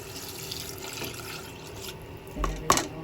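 Second batch of coconut milk poured into a simmering shrimp curry, a steady liquid pour and bubbling with a few sharper splashes and clinks near the end, close and moderately loud.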